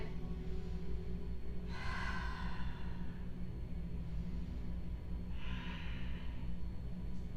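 Heavy, forceful breaths pass in and out in two long audible waves over a low room hum, taken while holding a power yoga pose.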